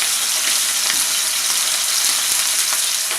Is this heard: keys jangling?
no